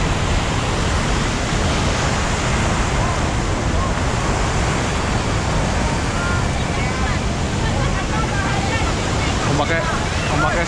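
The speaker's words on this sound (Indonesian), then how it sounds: "Ombaknya sangat besar sekali pemirsa." Large ocean waves surge and crash continuously on a southern beach, a loud, dense roar of surf with wind buffeting the microphone throughout.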